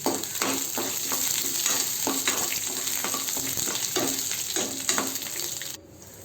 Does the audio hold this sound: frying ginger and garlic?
yes